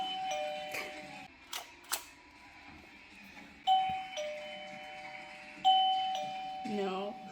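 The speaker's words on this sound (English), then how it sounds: "he was just ringing the bell and trying to come to me and get treats" A dog sounding a household doorbell, several bright ding chimes ringing out at intervals with some ringing sustained, plus light handling thumps and a brief voice near the end.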